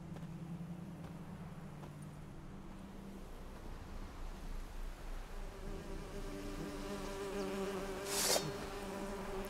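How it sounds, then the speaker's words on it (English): A swarm of bees in the video game Witcher 3 hums with a steady, close buzzing drone, swelling slightly toward the end with a short sharp chime near the close. "It's a bunch of bees."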